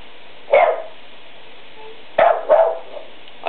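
A dog barks on a 1976 cassette recording, three short sharp barks, one alone and then a quick pair, over a steady tape hiss with a muffled, band-limited tone.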